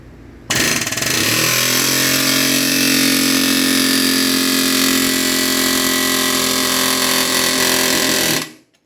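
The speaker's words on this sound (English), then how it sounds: "impact air hammer, and he just puts that right up against the sleeve with all this weight on it" Impact air hammer driving a cylinder sleeve out of a diesel engine: a loud, rapid continuous hammering that starts abruptly and runs steadily for about eight seconds before cutting off.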